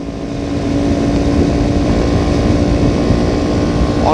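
An RS motorcycle engine runs on an empty road, swelling over the first half-second into a loud, steady, rough drone with wind rush close to the rider.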